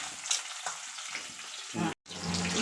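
Vegetables fry in a pan with a continuous close sizzle and occasional stirring scrapes, with a brief dropout near the end.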